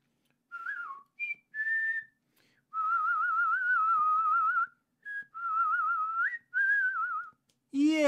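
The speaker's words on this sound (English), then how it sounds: "I think she heard my whistles" Bright whistling, close by, in short melodic phrases: a few quick notes, then longer wavering tones separated by brief pauses.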